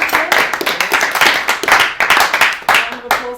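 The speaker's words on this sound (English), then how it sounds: "Yeah, round of applause for Tim." A few people on an online video hangout with a brass ensemble clap for a participant, a patchy and uneven round of claps with voices talking over it.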